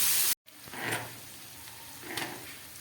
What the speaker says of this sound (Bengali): পেঁয়াজ আর ক্যাপসিকামটা ভাজা হোক